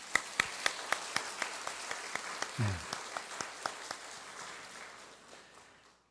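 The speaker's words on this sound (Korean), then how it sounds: "우리 한번 박수할까요?" Church congregation at a Sunday worship service clapping in a slow, even rhythm of distinct claps that gradually fade, with a brief spoken word partway through.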